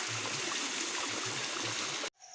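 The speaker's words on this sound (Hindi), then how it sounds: "इस मानसून के मौसम में यहाँ पे झरना देखो" A monsoon waterfall near Morila Mahadev temple in the Aravalli hills rushes in a loud, continuous broadband roar that cuts off sharply at the end.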